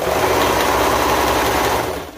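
A sewing machine runs continuously at a steady speed, stitching a leotard neckline in a circle, with a close, even mechanical whir and no speech.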